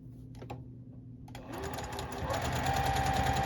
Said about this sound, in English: I have my 2 2-inch squares there. I'm going to sew them together.